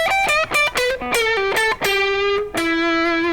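A distorted electric guitar plays a lead line of sliding, sustained notes with rich harmonics, loud and upfront with no talking.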